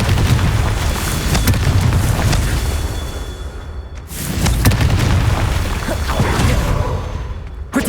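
Repeated booming blasts from a Confringo fire spell in the Hogwarts Legacy video game, loud and close, with two heavy bursts roughly four seconds apart and rumbling debris between them.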